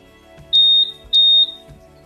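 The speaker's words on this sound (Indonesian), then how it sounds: "Bunyi bip cepat," Two fast, loud electronic beeps from a Honda PCX 160 scooter's remote alarm, each a clear high tone lasting about a third of a second, sounding close with soft clicks around them.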